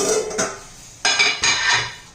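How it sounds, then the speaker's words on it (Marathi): A lid is set onto a cooking pot holding a jowar, besan and wheat flour curry, giving a few sharp metallic clanks and rattles, close and loud with no talking. "झाकण ठेवूया"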